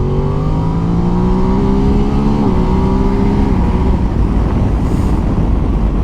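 A Ducati DesertX motorcycle accelerates hard, the loud engine note rising steadily through the gears with a brief dip at a quick-shifter change, then settling into a steady roar with heavy wind rush.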